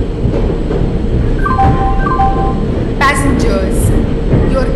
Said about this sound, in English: Train number 10201 Goods Express is arriving at platform number